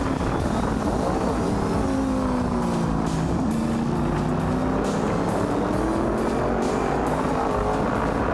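Racing cars including a Tiggo and an Opel Record roar around the Kyalami circuit, engines droning loudly and steadily with pitch sweeps as they chase side by side.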